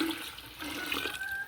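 Cooled tea poured into jugs for kombucha on a kitchen counter, a continuous close splashing, gurgling stream of liquid with a rising tone as the vessel fills, no voices.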